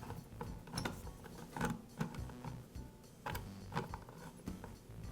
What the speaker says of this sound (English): I'll loosen the nuts and also loosen the chain tension.